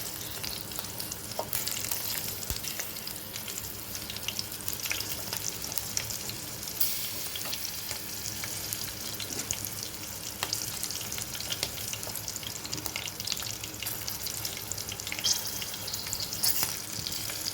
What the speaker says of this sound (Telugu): కొన్ని పచ్చిమిర్చి వేసుకోవాలి. ఇవి కాసేపు ఫ్రై అయిన తర్వాత